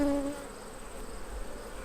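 A honey bee colony hums during a hive inspection, a dense steady buzz that carries on alone after a brief tone at the start, no speech over it.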